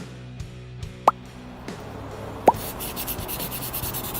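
Someone sands a homemade DOOM super shotgun prop, giving a close, steady scratchy rubbing that builds after a couple of sharp knocks, with no talking.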